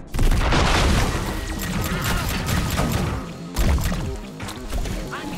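A heavy explosion in the shooter game High on Life, a loud booming roar with a long rumbling tail and a second blast midway, dense and close.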